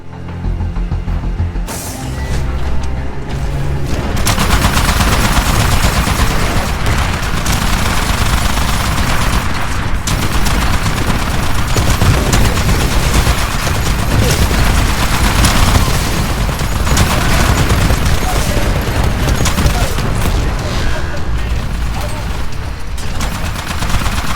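Rapid sustained gunfire and explosions from the video game Tinfall, dense and loud throughout with continuous bursts layered over a battle din.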